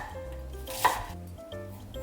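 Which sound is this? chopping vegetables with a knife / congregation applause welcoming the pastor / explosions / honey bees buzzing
chopping vegetables with a knife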